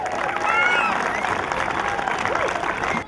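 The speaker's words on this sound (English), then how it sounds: "Give them a big round of applause." Crowd applause and cheering for the 2014 LBA teams at an opening ceremony, a dense steady wash of clapping held throughout with a few whistles and shouts mixed in.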